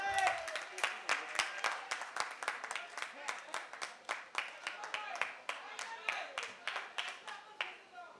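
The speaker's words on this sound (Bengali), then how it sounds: "একটা হাততালি হয়ে যাক" Audience clapping at a stage event for the Bangladeshi film Kill Him, honouring its producer-director: a steady run of sharp, close hand claps for about eight seconds, with some voices mixed in.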